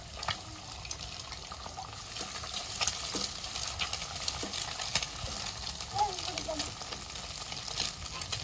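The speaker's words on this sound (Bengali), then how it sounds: "দেখেন পেঁয়াজ আর কাঁচামরিচটা ভাজা ভাজা হয়ে গেছে" Onion and green chilli frying in a wok as an egg is added, a steady crackling sizzle with scraping stir noises and some running water nearby.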